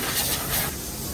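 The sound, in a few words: spray of cleaner on tractor unit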